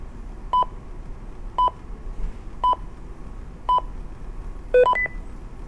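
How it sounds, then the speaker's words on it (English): A Ritron JMX portable radio beeps while entering programming mode: four evenly spaced short tonal beeps about a second apart, then a quick rising two-tone chirp, clear and close over faint background hiss. "Once it begins beeping, go ahead and release it."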